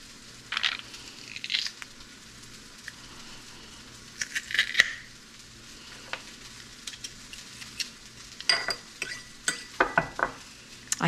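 Garlic cloves minced in an old French-made metal garlic press while cooking shakshuka, heard as scattered close metallic clicks, squeaks and clatter with pauses between and no talking.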